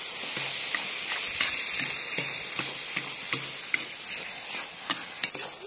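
Meat sizzling and frying in a kazan over a campfire for fried lagman, with steady hiss and repeated stirring scrapes at an even rhythm, close and continuous without talk.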